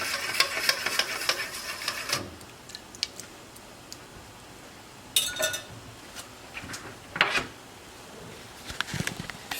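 Ponche de creme mixture being stirred in a pot, a soft steady scraping broken by a few sharper clinks of the spoon against the metal, close and fairly quiet.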